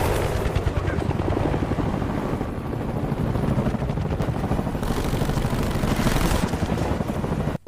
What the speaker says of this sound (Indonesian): Tiba-tiba, sebuah helikopter datang mengejutkan mereka.